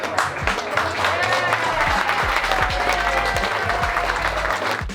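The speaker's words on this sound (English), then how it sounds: "she got a hearty round of applause for keeping it short and sweet" Hearty applause from a welcoming crowd of cruisers after a short thank-you speech, steady clapping over low thumping and a murmur of nearby voices.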